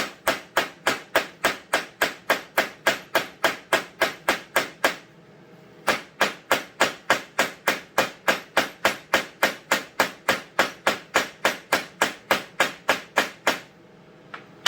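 Rhythmic hammer strikes on leather, quick and evenly spaced, pausing briefly once before resuming, then stopping near the end; nearby and loud.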